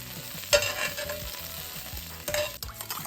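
Sliced onion, seasoned with salt and pepper, sizzles quietly in a pan, with the clatter of stirring at intervals and no voices.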